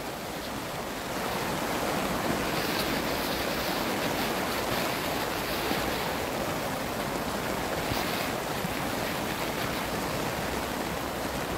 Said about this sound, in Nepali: पानीले यसरी चाहिँ बाढीले यसो चाहिँ हेर कति ठुलो पानी परेको छ